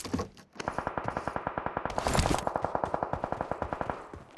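Automatic gunfire in PUBG on the Erangel map rattles out in a long fast burst of evenly spaced shots, loud and close, after a brief opening crackle.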